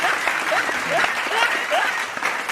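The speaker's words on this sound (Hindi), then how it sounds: "आप लोग ताली बजाओ।" A village audience at a Chhattisgarhi comedy event claps steadily, a dense patter of many hands held at an even level throughout, with a voice speaking over the applause.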